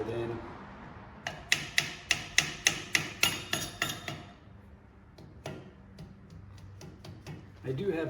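Steel hammer blows drive a bearing into a Dana 70 axle in a workshop: about a dozen sharp, evenly spaced metallic strikes in quick succession, then a pause and a few scattered lighter taps and clanks close by.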